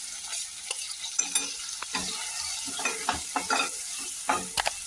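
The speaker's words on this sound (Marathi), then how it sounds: "मी अद्रक आणि लसूण मिरच्या आणि 2 कांदे घेतले बारीक चिरून, हे पण आपल्याला आता चांगले परतून घ्यायचे मऊ मस्त" Finely chopped onions sautéing with ginger, garlic and chilies in a pan, a soft continuous sizzle punctuated by frequent spatula scrapes and taps as they are stirred.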